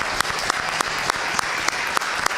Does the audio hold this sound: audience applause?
yes